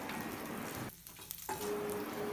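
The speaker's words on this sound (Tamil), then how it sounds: "இதெல்லாம் போட்டு நல்லா வதக்கி விடுங்க." Cinnamon, chopped green chillies and fennel seeds sizzle in hot oil in a pan, a soft, continuous frying crackle broken by a short stir.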